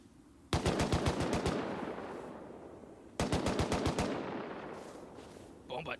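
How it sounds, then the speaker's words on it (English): Two bursts of rapid automatic gunfire in the video game Rust, each a fast string of sharp, loud shots with a long echoing tail, heard without talk. "They're landing shots uphill."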